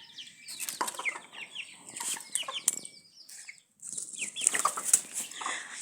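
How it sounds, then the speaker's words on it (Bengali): Chickens cluck and squawk in bursts on a farm, with repeated wing flapping and a brief lull midway before the flock grows busy again; no voices. "মুরগি।"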